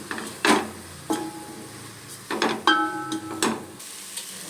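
Chilli powder fries in a pan for Mangalore cucumber sambar, heard as a low sizzle under several close scraping stirs and knocks of a spoon.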